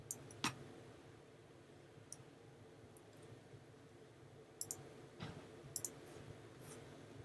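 A computer mouse clicks quietly while text is worked on in a design program, a handful of sharp, isolated clicks scattered irregularly over a faint room hush, some in quick pairs.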